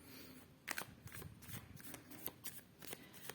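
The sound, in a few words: shuffling tarot cards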